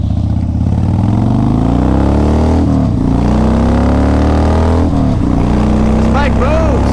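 2002 Harley-Davidson Low Rider motorcycle riding and accelerating, a loud continuous engine roar rising in pitch through the gears with brief dips at shifts, heard up close with wind rush.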